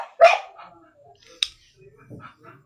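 A dog barks at close range: one loud bark, then a sharper yelp a second later, followed by lower grumbling sounds and faint background noise.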